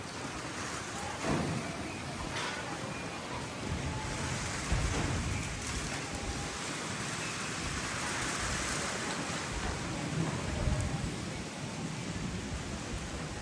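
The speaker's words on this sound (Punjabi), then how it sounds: "ਨੇਰੀ ਚੱਲ ਪਈ ਮੀਂਹ ਵਾਲੀ ਰਫਤਾਰ ਵੀ ਵੱਧ ਗਈ" Heavy rain roars steadily with gusts of a windstorm swelling and fading beneath it during wheat harvest, a dense, continuous hiss with occasional low rumbles.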